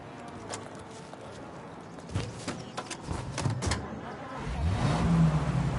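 A car in the video game Mafia pulls away and accelerates, a low, faint engine note rising toward the end after a few sharp clunks and knocks, heard without speech.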